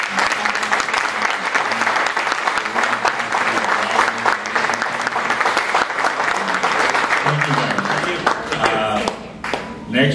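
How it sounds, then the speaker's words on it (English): Audience applause at a live community event, a steady wash of many hands clapping that holds loud for about ten seconds before thinning near the end. "I'd like to ask you guys to give a big round of applause."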